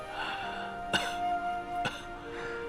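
A man gives two short, sharp coughs about a second apart, close and fairly quiet, over a faint tonal background.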